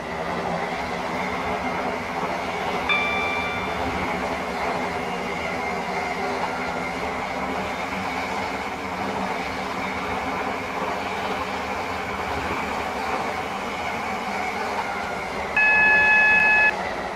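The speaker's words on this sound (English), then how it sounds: "Welcome on board this airlink service to Airport Terminal 2." Steady interior hum and rumble of a moving airport rail link train running to Airport Terminal 2, with a couple of short electronic beeps near the start and end.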